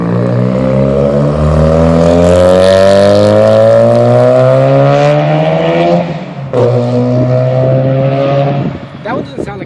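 A Mazda RX-7 rotary-engined car sweeps past, its loud engine note falling steadily in pitch as it passes close by, then fading with a brief sharp knock near the end.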